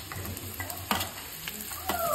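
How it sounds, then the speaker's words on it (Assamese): Ginger, garlic, onion, green chilli and carrot fry in a pan for fried rice, a steady close sizzle with a few sharper stirring scrapes and clatters breaking through at intervals. "এইখিনি আদা, নহৰু, পিঁয়াজ, জলকীয়া এইখিনি ভাজি ল'লোঁ, আৰু এতিয়া মই এটা এটাকৈ বস্তু দি যাম। প্ৰথমতে দিলোঁ এয়া গাজৰ"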